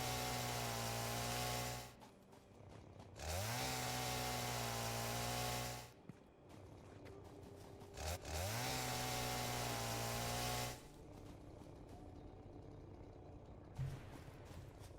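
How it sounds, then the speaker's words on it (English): A video game chainsaw in Satisfactory cuts down trees in loud, droning bursts. The motor pitch climbs as each cut starts, and the bursts are separated by quieter gaps. "Chainsaw time, Swest says with glee"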